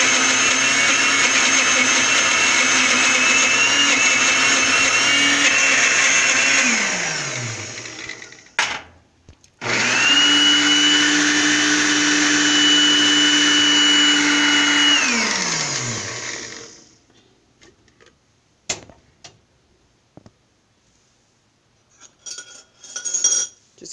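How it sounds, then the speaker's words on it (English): A kitchen blender whirs loudly as it blends mango and milk, running for several seconds, stopping briefly, restarting and spinning down, followed by faint clinks of a spoon and container. "just blend it. Let it blend for a few minutes."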